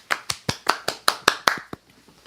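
Short round of applause for Billy Glenn during a live Disney-themed chat stream: about eight or nine crisp, evenly spaced claps from a single nearby person, quickly fading out.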